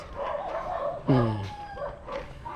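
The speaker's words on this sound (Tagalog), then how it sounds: "Ang daming aso, no?" A dog on a long rural road in the Philippines gives a sharp bark or yelp with a rising, howl-like tone, standing out clearly over outdoor background noise and faint talk.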